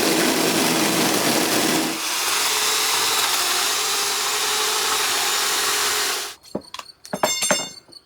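A power drill bores deep into concrete with rebar, giving a loud, steady grinding roar that eases slightly partway through, then cuts off and leaves a few clattering knocks, with no talk.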